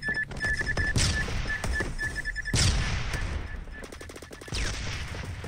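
Automatic fire from an M1918A2 rifle in Roblox Phantom Forces, rapid bursts of close, loud shots with a few sharp louder reports and brief pauses between volleys.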